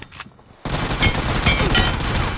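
Rapid close-range gunfire in Battlegrounds Mobile India: a brief quiet moment, then a dense, loud burst of repeated shots that continues steadily to the end.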